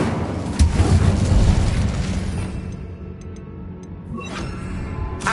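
The Incendio fire spell from Hogwarts Legacy sounds as a loud booming burst of flame that fades over a few seconds, with a softer whoosh near the end.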